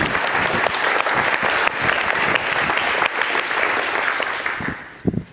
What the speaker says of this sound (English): you guys did a good clap.